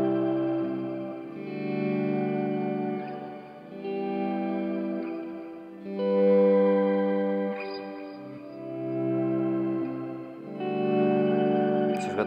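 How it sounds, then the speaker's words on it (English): Electric guitar chords played through auto-volume, echo and octave reverb effects ring out one after another, each swelling in slowly with soft volume and trailing into long, echoing, reverberant tails. "put the auto volume echo with the octave reverb"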